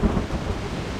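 Rumbling thunder over steady rain during a stormy scene in the video game Reverse:1999, a low heavy roll with a brief peak at the start and then a sustained wash of rain.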